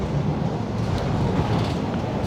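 Steady, dense rumble fills the cabin of a moving first class train, a continuous broadband roar with no breaks and no talking.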